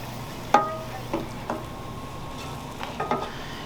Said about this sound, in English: We got to let that simmer for a minute.